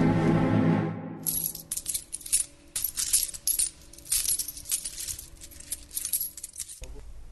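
Thirty silver coins drop and clatter in a rapid jingling cascade lasting several seconds after a low rumble, bright metallic clinks close and alone.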